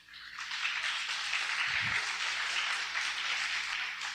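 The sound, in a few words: church congregation applauding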